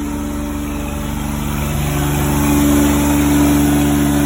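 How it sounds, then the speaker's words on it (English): A truck-mounted carpet cleaning machine's engine runs loud and close with a steady droning hum, rising slightly in strength partway through, and no voices are heard. "the first thing you do is come down and turn the truck mount off"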